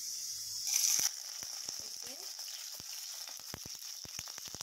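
Shallots, green chillies and curry leaves hit hot oil with a steady, close sizzle that swells briefly near the start, broken by sharp spits and crackles throughout.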